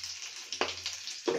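Asafoetida drops into hot oil already crackling with carom seeds while making red pumpkin chutney, giving a soft, steady sizzle with a few sharp pops, close by and fairly quiet.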